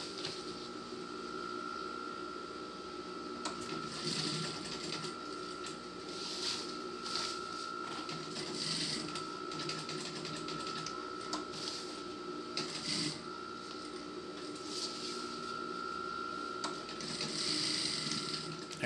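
Sewing machine stitching a fabric shopping bag, a steady mechanical whir running throughout with small shifts in pitch, close and moderately loud, with someone talking over it.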